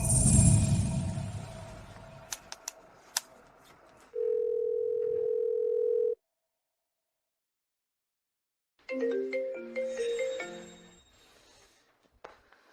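A telephone dial tone heard while calling someone, a steady two-second tone after some handset clicks, then silence, then a second burst of tones, all alone without talk.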